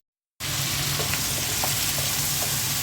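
Spiced eggplant and potato pieces for curry drop into hot oil and fry with a loud, continuous sizzle and a few soft stirring clicks.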